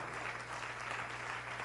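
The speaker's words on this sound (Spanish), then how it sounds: "denle ese aplauso al Rey de la Gloria" A church congregation claps in a continuous dense wash of applause, steady and fairly distant, with a low hum underneath and no clear talking.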